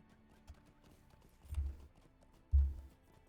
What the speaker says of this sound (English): Horse? Where is it?